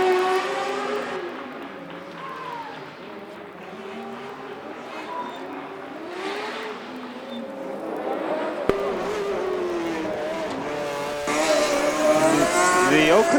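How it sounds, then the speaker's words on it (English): A Formula Student race car roars past loudly during the endurance event at Formula Student Germany 2019, its engine pitch sweeping up and down, with a crowd and distant talking in the background. "The Oakland car is sounding really loud as it goes past this time."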